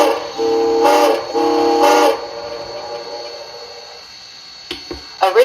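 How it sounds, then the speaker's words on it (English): HO-scale model steam locomotive sound decoder playing a steam whistle, two loud sustained chime blasts about a second apart, then a fading hiss and a few small clicks; a voice speaks briefly at the very end. "I'm going to go through a couple of whistles."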